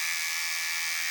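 A Kemei multifunction electric shaver runs after being switched on, a steady high-pitched electric whine with a faint buzz, heard close and alone for about a second.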